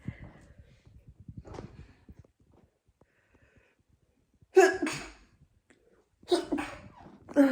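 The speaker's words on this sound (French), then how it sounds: "J'ai envie d'éternuer" After some quiet talking, a person sneezes sharply twice, close to the microphone, the sneezes spaced a couple of seconds apart.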